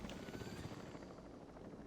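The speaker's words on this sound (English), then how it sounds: "Why is there a chopper?" A helicopter flies in a video game, its rotor producing a steady, fairly faint chopping rumble that continues throughout with no speech.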